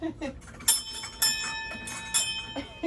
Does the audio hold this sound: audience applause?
no